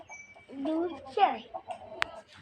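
A chicken on a farm gives a couple of short clucks at close range, mixed with a nearby human voice and a sharp click near the end.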